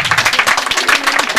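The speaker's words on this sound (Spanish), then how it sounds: "¡Fuerte los aplausos para la señorita!" Applause for a young lady at a rodeo, a dense burst of rapid hand clapping from a crowd, loud and close, with no break.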